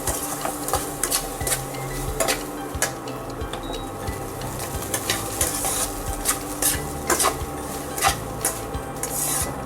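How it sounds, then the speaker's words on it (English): Rice being stirred with cooked carrot, beans and green chilies in a frying pan for egg veg fried rice, a continuous scraping and sizzling with frequent spatula clacks against the pan, loud and close. "Then add rice and mix it nicely."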